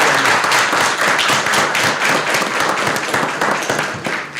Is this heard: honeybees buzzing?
no